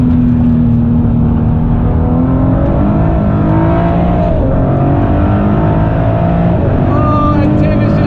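A twin-turbo Ford GT runs at speed on the Nürburgring, its engine a loud, steady in-cabin drone with shifting tones and faint turbo whoosh, heard continuously for several seconds.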